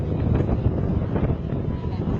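Rough, low rumbling of cold wind buffeting the microphone at Sampaloc Lake in San Pablo, Laguna, continuous and close, with muffled voices faintly underneath.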